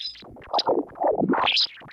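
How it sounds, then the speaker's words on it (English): Sonified solar wind plays as sparse, warbling electronic tones that rise and fall in short bursts, separated by brief silences. "This is the sound of the solar wind."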